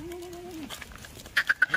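Kathiawadi goats, freshly unloaded from a vehicle, let out a drawn-out bleat followed by a quick series of short, sharp calls nearby, with other faint animal sounds around them.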